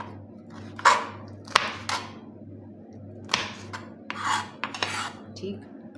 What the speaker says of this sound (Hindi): हरी मिर्चें कट कर लेंगे।